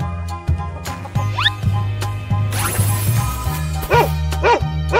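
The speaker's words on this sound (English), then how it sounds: "Dog." A cartoon-style dog sound from a children's animal video, several short yips and barks between brief squeaky chirps over a steady background music bed.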